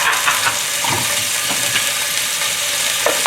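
Ginger and garlic sizzle in olive oil over moderate heat, a steady close crackle and hiss broken by soft stirring scrapes.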